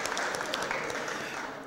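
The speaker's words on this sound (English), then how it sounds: "Let's give Reverend Marcus Adams a round of applause for helping us start out the morning." A round of applause at a Board of Aldermen meeting, a brief, moderately faint patter of clapping from the room that fades out.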